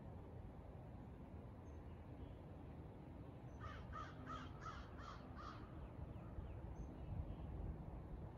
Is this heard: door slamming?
no